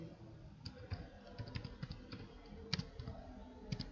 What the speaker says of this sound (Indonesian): Lalu kita ketik simulasi